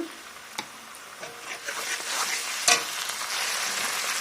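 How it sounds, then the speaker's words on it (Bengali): Onion with ginger-garlic paste hitting hot mustard oil in a pan, a soft hiss and crackle that builds after a few stirring knocks, with a sharp clatter midway. "তেল গরম হয়ে গেছে আদা রসুন একসাথে মিক্স করে বাটা দিয়ে দিচ্ছি"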